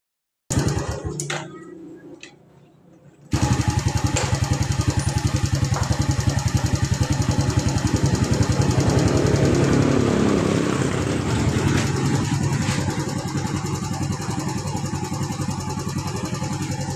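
A Yamaha Vega ZR motorcycle engine with a troublesome carburetor sputters as it is cranked, then catches and settles into a loud, steady idle with a slightly uneven, knocking beat, heard close up.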